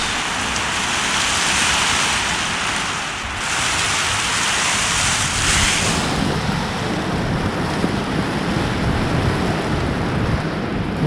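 Heavy rain driven by wind through garage slats, a loud continuous rushing hiss with gusty swells and water spattering nearby.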